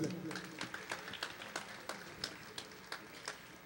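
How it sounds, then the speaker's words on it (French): Scattered applause from a small audience at a televised French event, a dozen or so distinct claps standing out over a faint, steady background murmur of voices. "Encore des applaudissements, s'il vous plaît."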